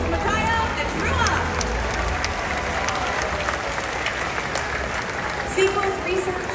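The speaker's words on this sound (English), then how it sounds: "How about a round of applause for our 2 male killer whales?" A SeaWorld orca show crowd applauds two male killer whales, Makaio and Trua, a broad wash of clapping and murmur from a large outdoor audience while an announcer talks over it.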